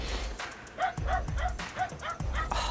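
A dog barks in a rapid run of short, sharp yips and bow-wows, about six in quick succession, close and fairly loud over faint background noise.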